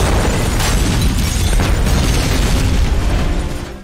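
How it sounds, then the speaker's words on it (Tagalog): A burning cabin explodes at night in a loud, sustained roaring blast with dense crackling rumble that stays heavy for several seconds before tapering off abruptly. "ang buong cabin ay nagliyab at sumabog sa gabing iyon"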